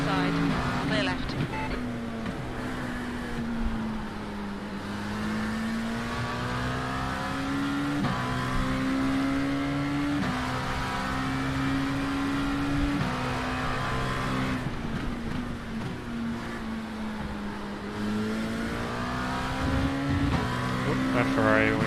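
A Ferrari race car engine in the iRacing sim roars steadily through an IMSA series race, its pitch rising and falling with gear changes and throttle, while a driver talks over it throughout.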